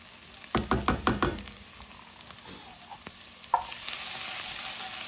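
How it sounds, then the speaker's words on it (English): Tomato paste caramelizing in a pot with onion and garlic for beans to serve over rice: a quick run of stirring clanks, then a steady close sizzle with one sharp knock. "now we're gonna add the tomato paste, and we're gonna caramelize up the tomato paste a little bit"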